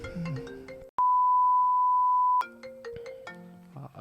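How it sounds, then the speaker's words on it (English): Phone ringtone from an incoming call, opening with a short burst of melodic notes, then a loud sustained single tone of about a second and a half, followed by more chiming melodic notes. "Someone's getting a phone call."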